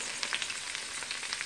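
Chopped potatoes frying in a hot pan, a continuous close bright sizzle and crackle with small popping spikes, no talking.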